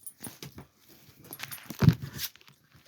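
Six-week-old puppies play and scuffle nearby, with faint low growls, soft yips and rustling that swell into a brief louder burst midway.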